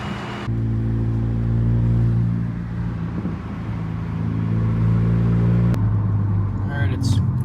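An MK6 VW GLI fitted with a big turbo pulls hard, its deep engine drone climbing in pitch through the gears with a shift break near the end, loud and steady as heard from outside.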